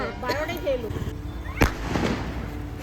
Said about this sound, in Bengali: আমরা সবাই মিলে বেরিয়েছি এখন আতসবাজি পোড়ানোর জন্য